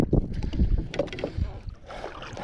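A small fishing boat rocks on choppy afternoon waves during ultralight fishing. Low, uneven water slaps and wind buffeting come through close to the microphone, with faint muffled voices in the background.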